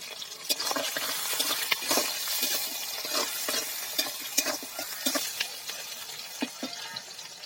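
Green chillies and onion hit hot oil already crackling with black cumin, a steady loud sizzle broken by sharp scraping stirs and clinks, close up with no talking.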